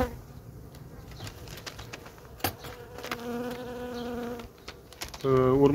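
Honeybees buzzing at a hive in spring while a medium-sized colony is being worked on, a close steady insect drone with wingbeat hum rising and swelling louder toward the end, no talk over it.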